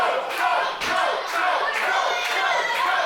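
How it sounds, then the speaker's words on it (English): A wrestling crowd at a Future Pro Wrestling show chants loudly and steadily for Joel Redman during his match against David Francisco, a dense rhythmic roar of many voices filling the hall. "Crowd firmly behind Redman, chanting with Joel."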